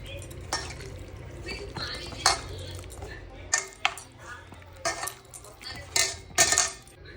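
Egg, cornflour and besan batter is mixed by hand in a bowl for evening snacks, producing irregular scraping, clinking and wet squelching strokes that sound close and moderately loud, with sharper clatters every second or so.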